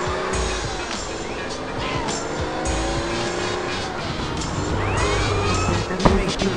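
Tires squeal and skid as a car slides out of control in GTA San Andreas during a police chase, engine roaring and game sounds layered throughout, with someone talking over it.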